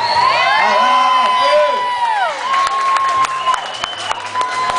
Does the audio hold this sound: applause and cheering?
yes